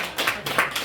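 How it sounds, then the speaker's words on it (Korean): An audience at a church Christmas service claps briefly, a short burst of a few scattered hand claps sounding moderately close in the room. "박수"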